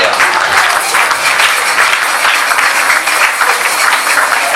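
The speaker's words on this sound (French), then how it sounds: "Est-ce que nous pouvons acclamer pour le Seigneur?" A church congregation claps and cheers for the Lord, a dense, steady wash of applause holding at full loudness from start to finish with no single voice standing out.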